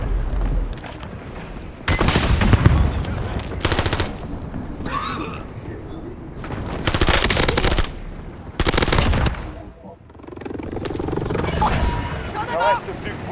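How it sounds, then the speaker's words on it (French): Machine gun fire in a video game sounds in loud, close automatic bursts separated by short gaps, with game voices and other speech between and over the shooting. "On me tire dessus."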